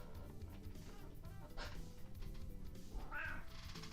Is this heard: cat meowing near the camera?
yes